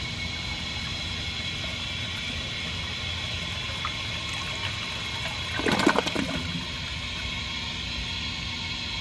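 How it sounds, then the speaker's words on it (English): A 1991 Kohler San Raphael toilet flushes slowly and weakly: a steady hiss of water and room noise, then a brief gurgling rush near the end that quickly fades, with no talking. "The flush on this toilet is very slow, it's very weak, and it's very ineffective"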